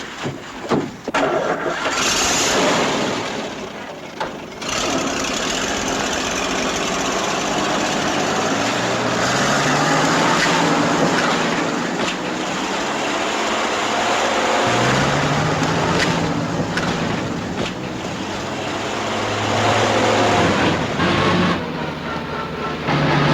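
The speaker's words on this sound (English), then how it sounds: "Keep racing that engine and get us in so deep we'll never get out." A military all-wheel-drive vehicle's engine starts and revs hard while stuck in deep mud, a loud, sustained roar that rises and falls with the throttle for over twenty seconds, with no voices.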